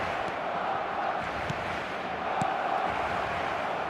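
A stadium crowd in an eFootball match: a continuous murmuring roar of fans, steady and moderately loud, with occasional faint thumps and no clear voices.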